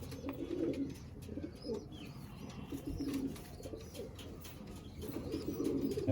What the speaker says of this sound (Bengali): বাচ্চা প্রচুর ওড়ে পায়রা।